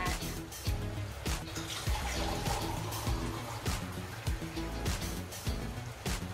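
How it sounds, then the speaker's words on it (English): Water poured into a boiling pot of chicken adobo: a steady, moderately loud splashing wash with regular soft knocks, and no talking. "we're gonna put a little water on that"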